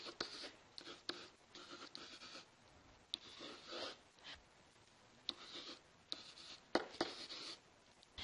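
Pen scratches across paper in quick irregular strokes as math is written out, close and faint, with short taps and pauses between bursts and no talking.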